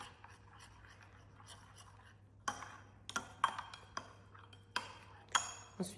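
A spoon stirring Bonjour Drink powder into hot water in a cup, faint soft scraping followed by a series of light clinks against the sides at irregular intervals.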